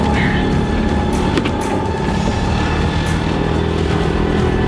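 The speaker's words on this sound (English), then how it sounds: "We got a boat coming." A motorboat engine drones steadily and grows louder as it nears while fishing, with a constant rumbling hum and some faint clatter on top.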